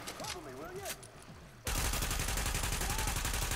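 Gunfire in the video game The Division: a voice is heard briefly, then a loud, dense burst of rapid shots runs continuously to the end.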